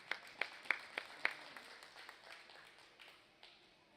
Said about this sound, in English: let's give these Charolais exhibitors a nice round of applause